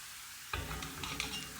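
Chopped garlic in hot oil in a pan with the heat switched off, starting to sizzle abruptly after a moment of quiet, then a steady, close crackle with a few sharper pops.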